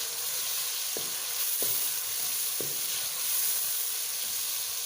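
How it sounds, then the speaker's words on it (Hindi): Tomatoes and green capsicum fry in a hot pan for chicken shimla mirch, giving a steady close sizzle with a few soft stirring knocks, and no one speaks. "एक से 2 मिनट पहले उसको भून लेते हैं।"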